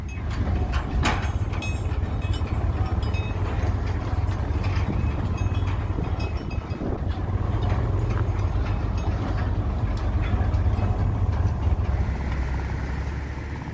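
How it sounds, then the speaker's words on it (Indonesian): A heavy sugarcane lorry train rumbles past close by at a road crossing, a steady low roar with metallic clanks and squeals running throughout, loud and continuous. "sudah mulai ditutup jalan ini untuk melintasnya kereta lori"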